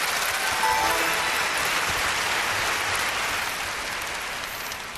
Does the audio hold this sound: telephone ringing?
no